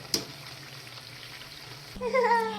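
Bengali fried pitha sizzles quietly in a pan of oil as it is turned over and over, with a light knock at the start and a louder crackle near the end.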